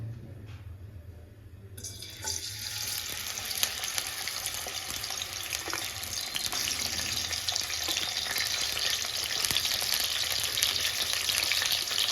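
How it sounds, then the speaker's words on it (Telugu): Small, thin dried fish dropped into hot oil for a pickle, with a quiet pause and then a sudden, steady, loud sizzle that keeps building. The frying is close and continuous, with no talking over it. "ఇప్పుడు నెత్తళ్ళు అయితే ఆయిల్లో వేస్తున్నాను నేను"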